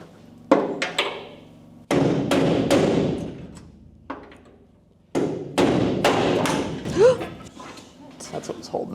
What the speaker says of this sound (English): I gotta bang that through.